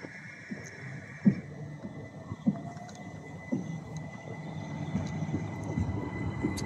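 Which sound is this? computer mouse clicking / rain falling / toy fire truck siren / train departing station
train departing station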